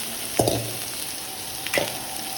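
Garlic and vegetables fry in a pan for a lasagna, a steady close hiss broken by two sharp clatters of a utensil against the pan.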